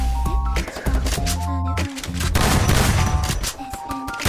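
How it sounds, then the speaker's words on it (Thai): Rapid gunfire in a 4v4 team shooter video game: dense bursts of shots with heavy booming impacts and tonal game effects, loud and close, continuing almost without pause. "ผมได้ทำการยิงไปแล้วก็ฆ่าเขาไปได้ฮะ"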